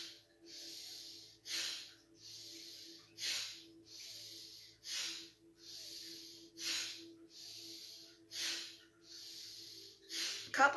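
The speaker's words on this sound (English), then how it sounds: "Nice deep breath. Exhale completely." Slow, deep breaths drawn in and fully let out during a conscious breathing exercise, about six close, soft inhale-exhale cycles in a steady rhythm over a faint low hum.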